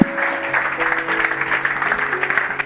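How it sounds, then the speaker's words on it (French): A church congregation claps and cheers to welcome a pastor, dense steady applause over sustained keyboard-like tones throughout. "On le reçoit en acclamant très fort."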